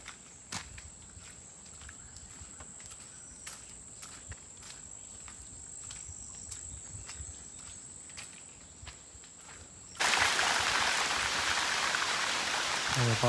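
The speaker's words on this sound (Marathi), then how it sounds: "आता पुन्हा येतोय पाऊस जोरात, आवाज येतो पावसाचा." Heavy rain arrives suddenly in farmland countryside. Faint crickets and scattered drips give way to a loud, dense, steady downpour that fills the last few seconds.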